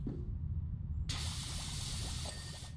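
Pressure washer in PowerWash Simulator spraying cleaning solution: a loud, sudden hiss of spray cuts in partway through and holds steady to the end over a low rumble.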